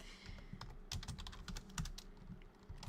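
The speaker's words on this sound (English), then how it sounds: "I'm glad you like the keyboard sounds." Rapid typing on a computer keyboard at a desk, with irregular clusters of crisp key clicks and a few heavier thumps, close and fairly quiet.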